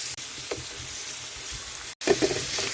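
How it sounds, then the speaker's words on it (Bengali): Chopped onion and whole garlic cloves frying in oil for a dried fish curry, a soft continuous sizzle with a brief break near the end followed by a few louder crackles and spatters. "পেঁয়াজ রসুনটা কিন্তু খুব কড়া ভাজবো না জাস্ট একটু নরম হয়ে আসবে"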